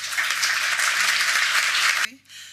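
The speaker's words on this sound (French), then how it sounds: "je vous demande de les applaudir" A crowd applauding steadily with dense, continuous clapping for about two seconds, then it cuts off abruptly into quiet.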